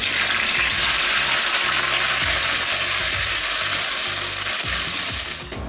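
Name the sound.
lamb frying and being stirred in a pan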